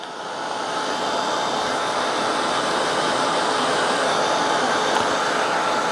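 Steady, loud whoosh of a heat tool drying stamped ink on a papercraft piece, rising quickly at the start and then blowing continuously and close without talk.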